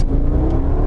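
Mercedes-Benz E 55 AMG estate from 2006 with automatic gearbox, its engine revving hard in a loud, continuous rumbling rise with no talk over it.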